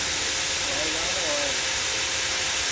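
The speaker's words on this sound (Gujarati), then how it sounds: "આ બરેલા ઓઇલથી ચાલતી સગડી છે" A stove burning used engine oil runs with a loud, steady roaring hiss like rushing steam, constant throughout, while someone talks over it.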